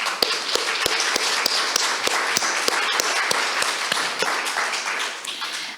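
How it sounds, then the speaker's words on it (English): Steady applause from a conference audience, with sharp individual claps standing out in a fairly regular rhythm throughout, tapering off at the very end. "Let's give them a round of applause."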